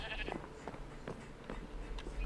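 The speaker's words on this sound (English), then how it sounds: "A lot of sheep means a lot of wool." Sheep in a modded Minecraft game let out several short bleats, spaced irregularly and fairly faint, over a low background hum.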